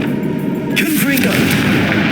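Confringo blasting spell from the Hogwarts Legacy video game: a loud burst of fiery crackle and rumble erupts under ongoing game sounds, sustained and dense after a quieter start.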